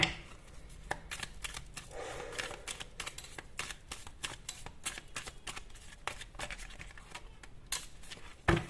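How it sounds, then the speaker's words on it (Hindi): Tarot cards drawn and handled from a deck, a quick run of soft, crisp flicks and slides that continues steadily, close and fairly quiet, with no talk. "काफी सारे यहाँ पर कार्ड्स आ रहे हैं, मैं इतने नहीं लूंगी बट ये ले रही हूँ"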